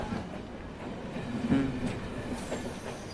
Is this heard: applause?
no